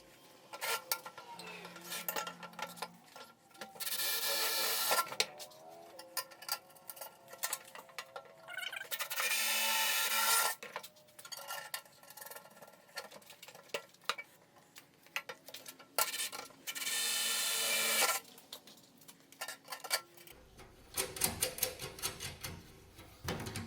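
Bolts being tightened with a socket on a wobbly wheelbarrow, heard as close metallic clicks, clinks and scraping in irregular bursts with short gaps, and no talking.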